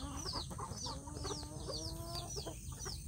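Free-range village chicks (ayam kampung) in a rearing pen waiting to be fed, giving repeated high, falling peeps and soft clucks over a constant low background hum, fairly close and moderately quiet.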